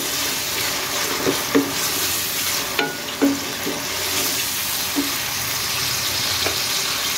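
Cubed tomatoes sizzle and fry among browned onions in a pan, with a steady hiss broken by several soft scraping stirs spaced through the clip, close and fairly quiet.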